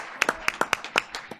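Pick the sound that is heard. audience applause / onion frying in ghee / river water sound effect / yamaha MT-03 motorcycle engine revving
audience applause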